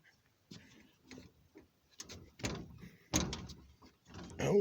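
The door of a Sany SCC8100 crawler crane creaks and clunks as it is worked open, with rattling latch knocks and a louder thud near the end, heard up close.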